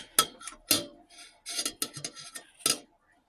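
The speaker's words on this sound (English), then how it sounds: "So, alright, so I just got to keep stirring this." Spoon scraping and knocking against a pot while stirring a melting coconut mixture flavoured with vanilla, a series of irregular clinks and rasping strokes, close and moderately loud, with no talking.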